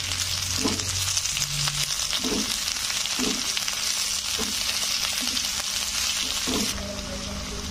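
Cluster beans sauté in a hot pan with salt, giving a steady close sizzle broken by a few soft stirring scrapes, with no talk.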